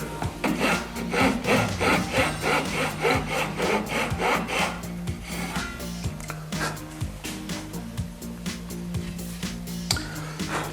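Hand saw cutting the nut slot on a guitar neck, rapid rhythmic back-and-forth wooden strokes, close and steady, the pace slowing and lightening toward the end.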